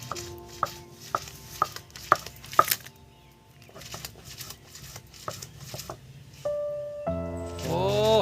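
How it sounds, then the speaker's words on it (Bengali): Masoor lentils and thankuni leaves are ground into a green paste on a flat grinding stone in a village kitchen, with repeated rhythmic scraping and knocking strokes and a voice rising near the end. "শালগুল পাতার ডাল বাটা হচ্ছে"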